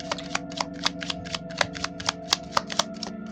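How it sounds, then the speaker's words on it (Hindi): Tarot cards shuffled by hand in a steady series of close, crisp flicks and slaps, with a faint background hum. "so let me shuffle more and let me check what's coming"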